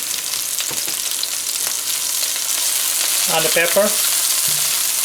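Onions, scallions and pepper fry in a pan with a steady, close sizzle, with a few light stirring knocks and a short spoken remark partway through.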